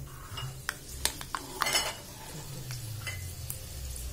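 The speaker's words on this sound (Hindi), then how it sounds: "मैंने इसमें मेथी डाल लिया" Fenugreek seeds go into a pan for Indian kadhi pakora and are stirred, giving a few sparse, sharp utensil clinks and taps over a faint, low sizzle in a quiet kitchen.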